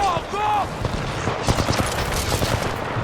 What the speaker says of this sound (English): Energy actuated SMG.